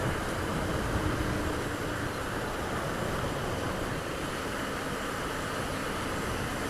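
Water spraying from a pickup truck's tyre through a puddle on a wet road, heard from a passing motorcycle as a steady loud broadband wash of spray and wind rush throughout.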